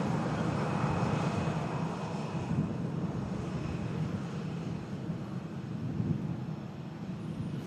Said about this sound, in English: We also have a TUI Dreamliner following this Singapore out.